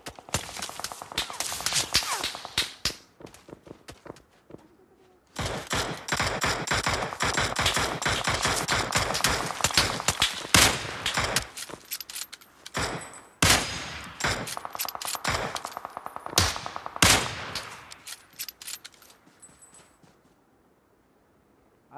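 Repeated bursts of automatic gunfire in PUBG Mobile, close and loud, firing in long rapid runs with short pauses, plus a few footsteps between volleys and almost no talk.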